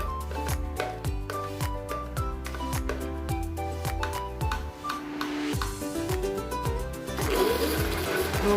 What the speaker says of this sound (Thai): เราสามารถใช้เครื่องปั่นที่ร้านเราเนี่ยค่ะ ตีวิปปิ้งครีมได้เช่นกันค่ะ